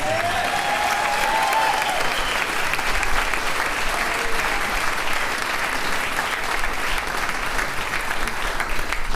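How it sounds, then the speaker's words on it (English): Wedding guests applaud the bride's parents during a toast, a dense, even round of clapping that carries on steadily for several seconds, with a brief voice at the very start. "we all owe a round of applause to the parents of our bride"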